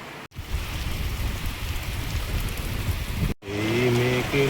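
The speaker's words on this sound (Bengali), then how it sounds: "আর এখন বিরাট বৃষ্টি হচ্ছে" Heavy rain pours outside as a loud, steady downpour that hisses continuously, breaking off briefly twice before a droning tonal hum joins the rain near the end.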